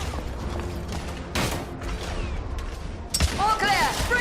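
Gunfire in the video game The Order: 1886 during a suppressive-fire firefight, scattered shots and mechanical clatter under busy game audio, with a sharp burst near the end.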